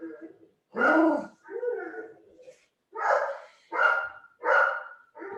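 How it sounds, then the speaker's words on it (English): A dog named Coco barks in a sharp run of about seven loud, close yaps and woofs, some with a whiny edge, spaced by short pauses, with no talk over it. "Is it really annoying having the barking coming through the screen?"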